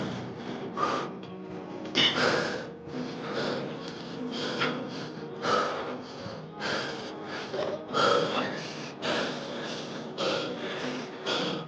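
Heavy, rhythmic breathing from someone winded after an intense gym set, repeated close-up gasps and snorting exhales for about ten seconds.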